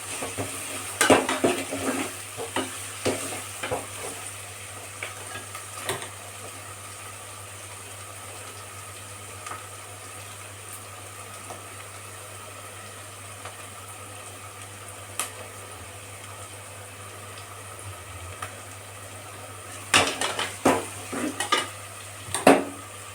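Onion, ginger and garlic sauté in a pan for a chicken gravy under a quiet sizzle, while a utensil clinks and scrapes against the metal in bursts at the start and near the end, over a low steady hum.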